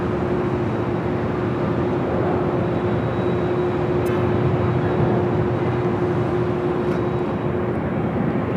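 An Asiana Airlines Airbus A350 at LAX airport, a continuous loud jet roar with a steady whine, heard from a distance without any talk.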